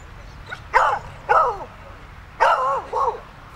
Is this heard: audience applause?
no